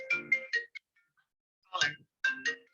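A mobile phone ringtone goes off during an online agricultural policy presentation, playing two short bursts of a melodic tone separated by a pause, fairly quiet and close.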